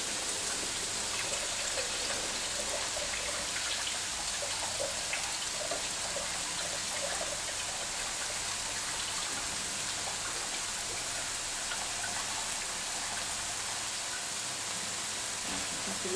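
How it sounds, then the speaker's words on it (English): Rice being washed in water for paella, a steady close rush and patter of water that runs unbroken throughout. "while another person washes the rice"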